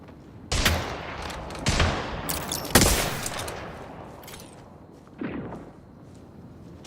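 Video game gunfire in a shooter: several sharp loud bursts of shots at irregular intervals, with a later fainter burst, over low background noise.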